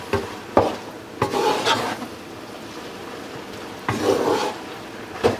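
Noodles being stirred in a pan for a burger mix, giving scraping, clattering strokes of a utensil against cookware that come in a few distinct bursts, close and moderately loud, with no talking.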